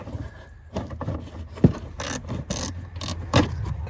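Screws being worked loose from the bumper of a Porsche Boxster S, giving close mechanical clicks and ratcheting taps with a few sharper knocks, alone without talk.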